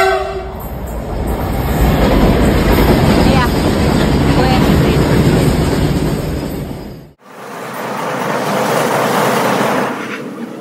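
A loud train roars past close by a house beside the railway line in Dibrugarh, Assam, rumbling and clattering with a steady whistle-like tone, then cuts abruptly before the rumble resumes more softly.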